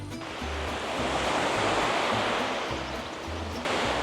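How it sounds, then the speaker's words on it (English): Ocean waves wash onto the shore near a beach campsite in Albania, a steady broad surf roar with gentle swells, heard alone and fairly close. "there's the ocean"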